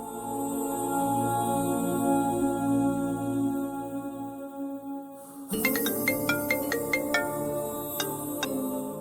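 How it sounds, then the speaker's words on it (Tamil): Phone ringing on an outgoing call in a Tamil television drama, a repeating electronic ringtone that breaks in after a held musical tone and sounds in short regular pulses, clear and fairly loud with no talking. "ஒரு ஃபோன் போடுப்பா"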